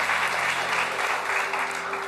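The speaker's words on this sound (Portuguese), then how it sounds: "Se você crê, aplauda Ele." A congregation applauding during a church service, dense sustained clapping from many hands filling the room, steady and loud for the whole stretch with no break.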